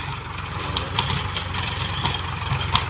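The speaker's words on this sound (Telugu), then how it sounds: "ట్రాక్టర్ శబ్దం ఎక్కువ వస్తుంది" A tractor engine runs continuously while pulling a rotavator through a pumpkin field, a steady close mechanical drone with faint clicks and knocks over it.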